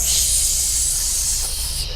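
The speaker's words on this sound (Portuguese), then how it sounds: "aquele barulho de fritura" Oil frying, as in hot oil boiling in a pan, a steady bright crackling hiss throughout, loud and close with no talk.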